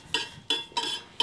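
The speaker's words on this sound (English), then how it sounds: "I can stir my tea though, right?" A spoon stirs tea in a cup, four bright clinks of metal against the cup ringing out close and moderately loud in an uneven rhythm, with no voices.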